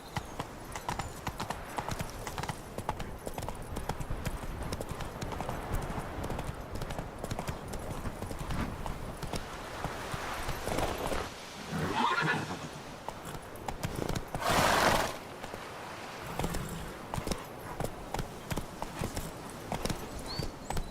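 A horse in the Witcher 3 video game clip-clops along in a steady rhythm, hooves loud and close, with a brief neigh and a burst of louder movement partway through.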